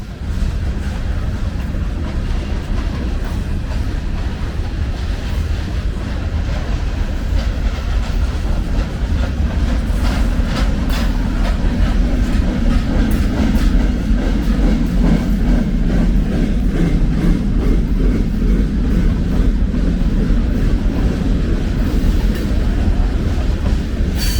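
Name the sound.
freight train passing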